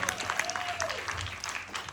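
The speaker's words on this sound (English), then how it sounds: "How about some applause? Let's get some noise going, folks." Audience applause at a live talk show taping, a moderately quiet wash of clapping that continues throughout with a faint voice and a brief whistle-like tone mixed in.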